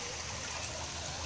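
Steady trickling rush of water running down a stepped channel on a pineapple farm, close and unbroken, with no one speaking.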